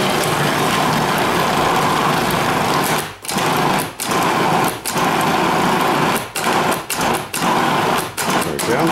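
A food processor whirls cream cheese and peanut butter in a loud, steady grinding whir that drops out briefly several times between bursts, close up.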